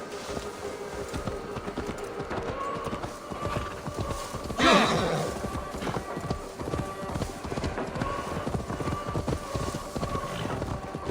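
Horse hooves clip-clop steadily in Assassin's Creed Valhalla while a horse is led along, with a brief whinny cutting through midway and faint wind and ambient game sound underneath.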